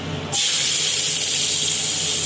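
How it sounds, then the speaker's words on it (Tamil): Chopped onions hit hot ghee with crackled cinnamon, cloves and fennel for tomato rice, setting off a sudden loud, steady sizzling hiss that fills the rest of the clip, close up. "இப்போ வெங்காயம் போடணும் பாருங்க."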